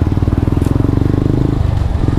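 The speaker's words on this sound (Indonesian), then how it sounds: "Ini motor-motor moge." Big motorcycles riding nearby on a road, a loud, steady rapid engine pulse with rhythmic throbbing exhaust close by, continuous throughout without talking.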